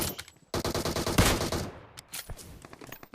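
A fast, loud burst of automatic gunfire in the mobile game PUBG Mobile, many shots in rapid succession, followed by a few scattered single shots as the firing trails off.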